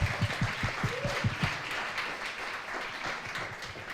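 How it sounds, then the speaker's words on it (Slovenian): Applause at a panel event on women in the tech sector, a short burst of close, rhythmic clapping from a small audience that thins out and fades within a few seconds. "fantje, en velik aplavz"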